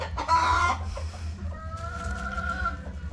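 A sick hen with coryza, a brooding chicken, clucks close by in a couple of short vocal bursts, with a faint rustle between the calls.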